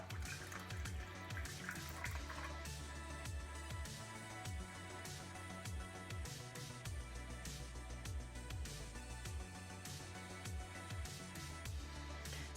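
Fresh water pours steadily into a container of water holding a floating egg, a continuous close splashing and gurgling trickle with small bubbling drips throughout.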